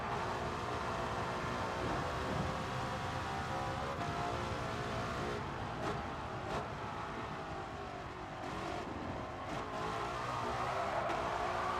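A 1955 Mercedes F1 car in a racing video game drones along at a steady engine pitch that rises and falls slightly with throttle, fairly quiet and continuous, with occasional brief tire sounds and no voices.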